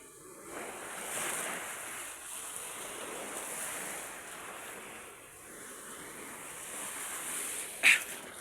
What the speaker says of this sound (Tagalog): Ayan, galit na naman yung dagat